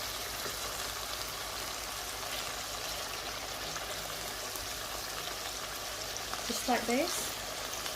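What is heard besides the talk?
meatball kofta frying in a pan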